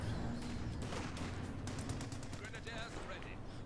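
Video game battle with rapid rifle and machine-gun fire, dense crackling bursts layered under someone talking, moderately close and continuous.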